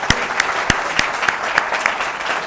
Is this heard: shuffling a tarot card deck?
no